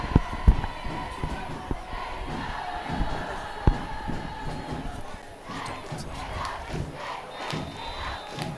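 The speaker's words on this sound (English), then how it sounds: "They're doing the big K-Dub cheer. Firing up the student section." At a Tahoma vs. Kentwood homecoming football game, cheerleaders lead the K-Dub cheer with the student section, a crowd chanting and shouting in rhythmic bursts, with a commentator talking over it.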